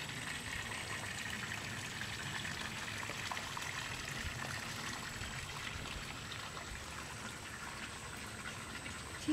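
Waterfall outdoors, a constant hissing wash of falling water at moderate distance, steady and unbroken throughout with no rhythm and no voices.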